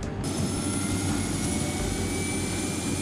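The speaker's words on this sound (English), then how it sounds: "No one has ever seen the helicopter do aerobatics." A steady, loud rotor-and-engine drone from a Red Bull BO-105 helicopter flying aerobatics overhead at an air show, continuous throughout with no pauses or talking.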